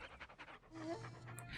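Dogs panting in the Postal 2 video game, rapid rhythmic breaths close by and fairly quiet, with a brief higher whine partway through.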